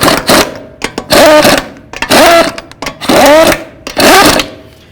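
An impact wrench spins lug nuts onto a 2005-14 Ford Mustang front wheel, giving four loud, close whirring bursts of about half a second each. Shorter clicks and taps fall between the bursts.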